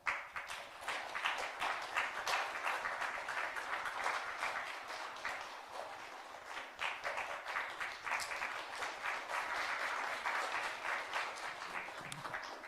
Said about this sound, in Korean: 우리 박수로 축하해 주시길 바랍니다.